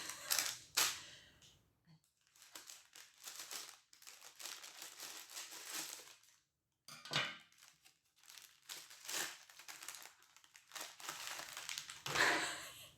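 A pink package is cut open with bird-shaped scissors, giving close bursts of crinkling plastic and paper, snipping and rustling separated by short pauses.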